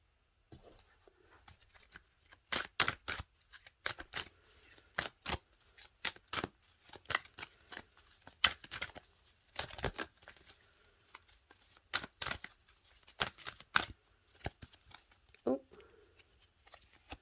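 Tarot cards being shuffled by hand in quick, irregular bursts of crisp riffling and slapping, close and fairly quiet, with short pauses between flurries and a little soft talk.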